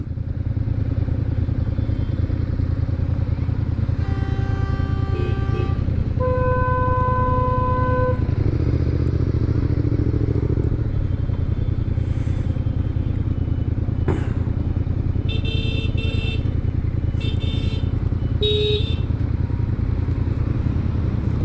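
Vehicle horns honk repeatedly in short and sustained blasts over a loud, steady engine roar of a Yamaha MT-07 motorcycle riding in heavy traffic.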